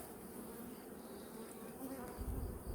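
Quiet, continuous buzzing of many bees in a hive, a soft droning hum with a slight swell near the end.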